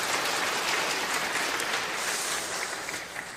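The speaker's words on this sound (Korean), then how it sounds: "찬양대 박수합니다" A church congregation claps for its choir during a Korean Sunday service: dense, even applause filling the room at a steady level before tapering slightly at the end.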